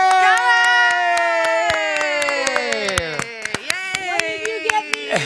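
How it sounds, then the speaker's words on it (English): A studio audience cheers and whoops loudly, with scattered sharp claps building into applause as the shouting fades. "if you're in the studio, clap your hands"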